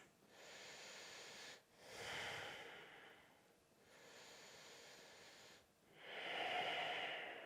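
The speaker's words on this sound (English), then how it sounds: "Let's keep breathing here, nice, long, full breaths." Slow, deep breaths during a yoga session, soft hissing inhales and exhales that alternate in long, even waves up close, with no talking.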